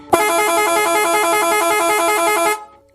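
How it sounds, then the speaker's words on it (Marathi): A truck horn blasts as a story sound effect, a single loud, sustained brassy honk lasting about two and a half seconds before cutting off. "एक ट्रकच्या हॉर्नने परिसराची शांतता भंग केली"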